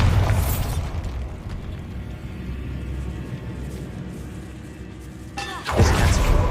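A Bombarda blasting spell goes off in the Hogwarts Legacy video game, a loud booming burst up front, a rumbling sustain that fades, and a second heavy blast near the end.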